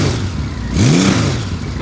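A 1997 Honda Valkyrie motorcycle engine idles close by, not yet fully warmed, with a steady low whirring and a brief rise in revs midway before settling back.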